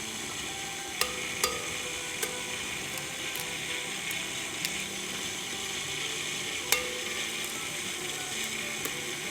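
Eggs being stirred into chocolate chip cookie bar batter in a bowl: a sparse series of sharp clicks and taps from the utensil over a constant background hiss, with no talking.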